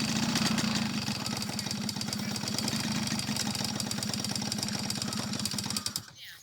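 A saleng motorcycle sidecar engine runs steadily while being driven, a close, loud, throbbing mid-pitched drone with rapid rhythmic pulsing that holds for about six seconds before cutting off.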